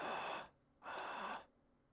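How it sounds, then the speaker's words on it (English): Heavy breathing in the PS2 horror game Silent Hill: Origins, two drawn-out breaths one after another, close and quiet with nothing else sounding. "I thought I heard some heavy breathing in here."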